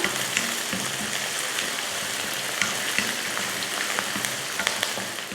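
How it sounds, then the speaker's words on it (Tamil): Chopped onions and curry leaves sautéing in a pan for egg curry, a close, steady crackling sizzle with small sharp pops throughout and no voices. "வெங்காயத்தை நல்லா பொன்னிறமாக வதக்கிக்கலாம்."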